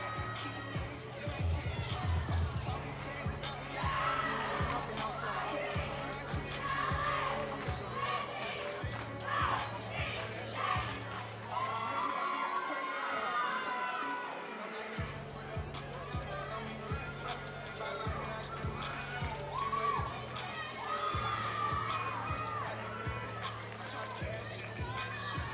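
Spectators cheering from the stands at a women's NCAA gymnastics meet between West Chester, Cortland and Brockport, a continuous babble of crowd voices and shouts that briefly dips near the middle, with an announcer talking over it.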